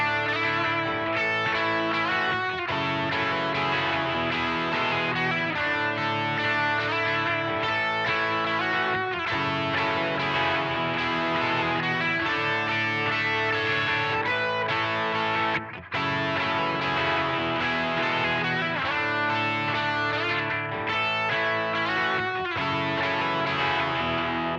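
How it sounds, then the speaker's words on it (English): An electric guitar solo with extra gain runs over four repeating chords, a dense, driven and continuous line with steady rhythmic accents and one brief dropout near the middle, loud and with no voices. "the solo kind of sounds like this over those same 4 chords"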